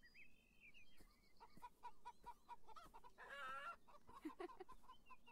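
Chickens cluck in the video game Beyond Eyes, a quiet, steady run of short repeated clucks with a brief louder squawk midway, heard alone without talk.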